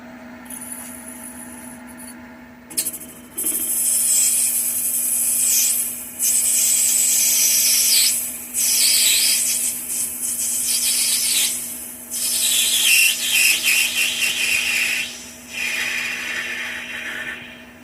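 A power drill cutting into a metal lubricator part for a live-steam Hunslet locomotive in several bursts, high-pitched whining grind starting and stopping repeatedly, close up, over a steady motor hum.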